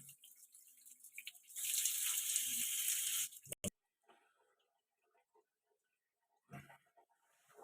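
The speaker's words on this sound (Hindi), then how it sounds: "हमारे दोनों तरफ पानी आ रहा है।" Water gushes from a repaired tap, fixed by replacing a cut washer and now running without leaks, in a steady, fairly loud stream for about two seconds, then stops, leaving near silence with a few faint clicks.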